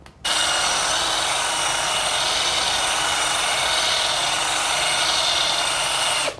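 A Hiroki HRCBP21SET impact drill spins with no load, a steady high-pitched whine held at constant loudness for about six seconds, close up and alone.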